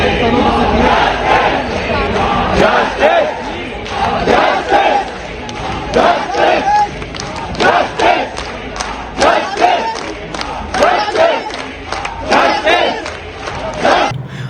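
Students at a protest in Delhi demand justice after UPSC aspirants died in a coaching centre. The loud, close crowd shouts slogans in ragged, repeated bursts, with sharp cries and claps cutting through a dense wall of voices.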